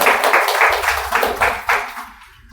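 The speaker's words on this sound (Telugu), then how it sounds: "ఇక్కడికి వచ్చిన వీళ్ళందరికీ కూడా ఒకసారి చప్పట్లతో మనం వెల్కమ్ చేస్తాము" A crowd applauds in welcome at an honoring ceremony for kolatam performers, a burst of rapid overlapping claps that gradually fades out.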